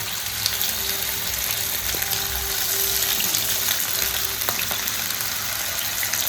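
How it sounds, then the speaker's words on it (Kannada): Prawns fry in a pan with a continuous, moderate sizzle, steady throughout with a few soft clicks and a faint hum underneath. "ಪ್ರಾನ್ಸ್ ಫ್ರೈ ಆಗುತ್ತೆ"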